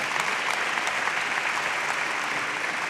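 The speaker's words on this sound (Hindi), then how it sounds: "जोरदार तालियों से स्वागत कीजिए" An audience applauds on stage to welcome a guest at an academy event, a dense, continuous burst of clapping held at steady loudness for its brief length.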